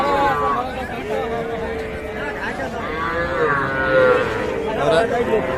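Young bulls and calves low and moo repeatedly at a busy cattle market, with several overlapping calls over a steady crowd murmur and background chatter.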